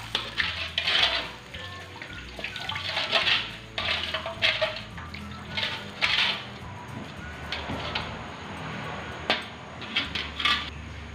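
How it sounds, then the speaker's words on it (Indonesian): Water, 400 ml, poured into fried spice paste in a pan for milkfish in yellow spice sauce, with splashing bursts, pan clatter and metallic clinks at close range. "lalu kita tuangkan air atau kita tambahkan air sebanyak 400 ml ya teman-teman"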